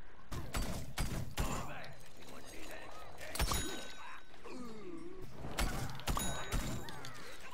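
Shotgun blasts in Plants vs Zombies Garden Warfare 2 crack out in sharp bursts amid game effects and music, several shots in quick clusters, with a player talking over the action.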